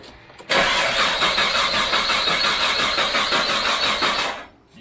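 A Nissan Stagea's RB25DET engine cranks and catches abruptly, then holds a loud, steady, raspy run close by for about four seconds before cutting off.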